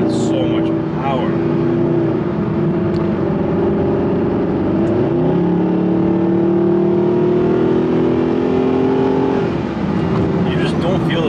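A 2011 Mercedes-Benz SLS AMG Gullwing accelerates hard onto a highway, its engine droning loud and steady from inside the cabin, rising through gears with a brief dip near the middle, while someone talks over it.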